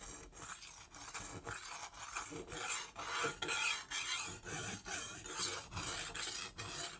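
A Global G-2 chef's knife rasps back and forth across an Atoma 140 diamond plate in steady, evenly spaced strokes, close and gritty, with no talking.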